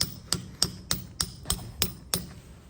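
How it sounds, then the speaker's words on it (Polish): Hammer striking a metal anchor point being mounted into rock, eight sharp, evenly spaced metallic blows about a third of a second apart, close and clear with no talk. "Młotek w rękach Markusa to nie przelewki."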